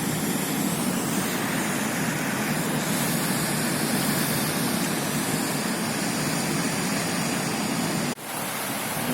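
A small river running in cascades toward a waterfall on a spring day, a loud, continuous broadband rush of water that stays constant throughout with a brief dip near the end.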